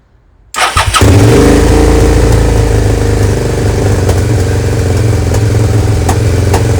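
A Suzuki SV650S motorcycle engine starts abruptly and then settles into a loud, steady idle around 2,500 rpm that runs continuously with a constant rumbling tone.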